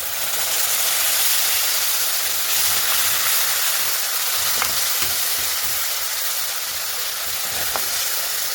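Hot water poured into a frying fish curry masala, a loud, continuous hissing sizzle with a few faint clinks, close up throughout.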